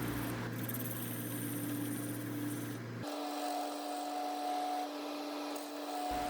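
An Easy Wood Tools C10 negative rake carbide tool cuts a spinning wood lamp blank on a lathe, making a steady close rasping scrape over a constant motor hum whose pitch shifts midway.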